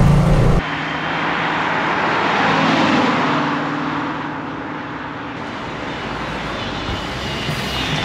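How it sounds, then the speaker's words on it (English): A 1989 Ford Mustang convertible spins its wheels in a positraction test, giving a loud, steady roar of engine and tyre noise that holds for about eight seconds after a brief louder burst at the start. "we'll test if it has posi traction"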